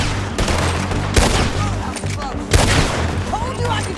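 Gunfire erupts in Red Dead Redemption 2, two heavy broadband shots standing out over a continuous low rumble of game score and ambience, with a voice speaking faintly underneath.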